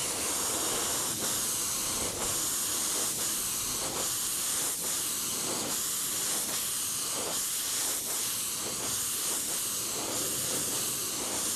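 Clear coat sprayed onto a model plane: a continuous loud hiss of spray, broken by brief regular dips as the nozzle pulses, with no talking.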